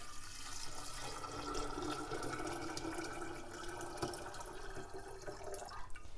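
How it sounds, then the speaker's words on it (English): Water is poured from a liter vessel over soaked almonds in a bowl for almond milk, a quiet, steady splashing and gurgling pour that runs continuously and tapers off near the end. "I'm gonna put a liter of water on top of that."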